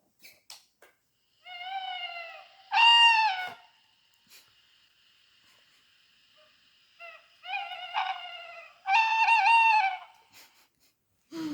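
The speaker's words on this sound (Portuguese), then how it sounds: "E as corujas do mato fazem este som bonito." Tawny owls hooting: harmonic, wavering calls rise in short bursts from a quiet night background, two clusters of repeated notes separated by silence, fairly close and clear.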